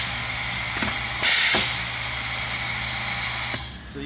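An automated vibratory screw feeder bowl runs with a steady buzzing hiss and a brief louder surge partway through, then winds down near the end.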